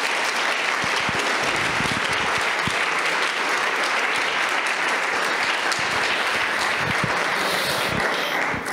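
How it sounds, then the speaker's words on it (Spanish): Church congregation applauding the Lord during a Spanish-language worship service, steady, dense clapping that fills the room without a break and stays loud throughout. "De la aplauso al Señor."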